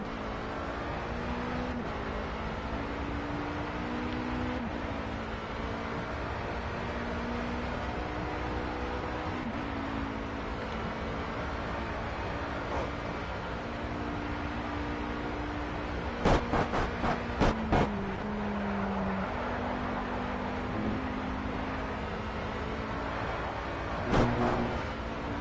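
An Alpine race car engine in Project CARS, Le Mans endurance career, drones steadily and then re-accelerates, with a low engine tone holding throughout and a few brief clicks near the end.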